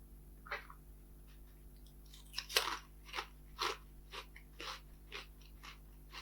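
Crunchy salt and vinegar snack bitten and chewed up close, a series of crisp crackling crunches spaced about half a second apart over a quiet background hum, with no talk.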